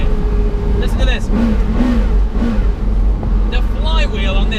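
Sharp revs from a Porsche Carrera GT's V10 Le Mans engine blip up and fall back several times in quick succession, loud and close, with brief speech mixed in.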